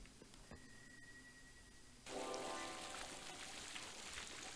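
Spring water pours into a jug at a spring in the video game Fable 2. A faint tone gives way to a sudden steady pouring rush that continues to the end, with no talking.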